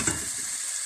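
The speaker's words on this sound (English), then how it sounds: "Any little piece of chicken that I had left over going in there, you can hear it sizzling away now." A chicken carcass browning in a pot for stock, giving off a steady, close hiss and crackle of sizzling fat with no pauses.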